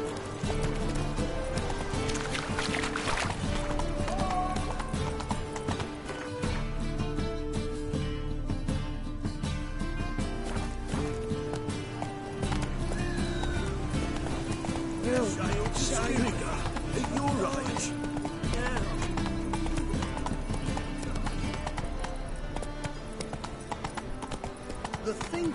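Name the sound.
horse Roach galloping, video game The Witcher 3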